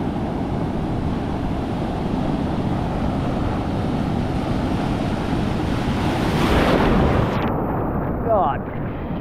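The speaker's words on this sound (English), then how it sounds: "except the waves are much more stronger" Strong ocean waves surge and wash around a rock pool on a beach, a dense continuous roar with wind buffeting the microphone and a louder swell near the end.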